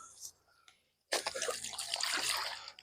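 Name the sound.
bullhead fish splashing in river water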